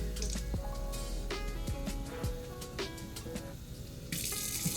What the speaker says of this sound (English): I'm gonna put some water